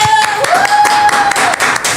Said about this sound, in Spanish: el doctor Jorge del Castillo, para quien pedimos un aplauso.